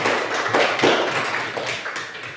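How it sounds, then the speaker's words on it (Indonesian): A classroom audience gives brief applause for a student group after its presentation on the intestine, a burst of scattered clapping that starts near and then fades over a couple of seconds. "Kita berikan aplaus buat kelompok usus"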